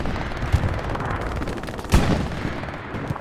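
Video game machine gun fire rattles in sustained bursts, with a couple of louder heavy reports standing out over a dense, noisy battlefield din.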